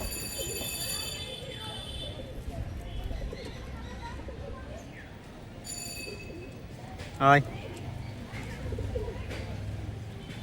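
Kalshira pigeons coo close by in a low, repeated rhythm, with a person softly calling to them and occasional wing flutters or scuffling.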